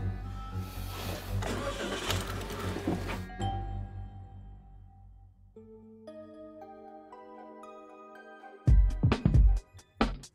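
A car engine cranks and starts, then runs steadily at a low idle under a rising sequence of chime-like tones, followed by a few loud thumps near the end.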